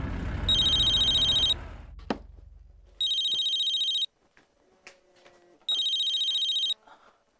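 A telephone rings in three bright electronic bursts, each lasting about a second, separated by short pauses filled with faint rustling and small knocks, with no one speaking.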